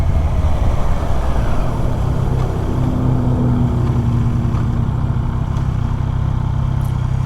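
2025 Triumph Trident motorcycle engine on the road, a steady, fairly loud drone with wind noise and no talking.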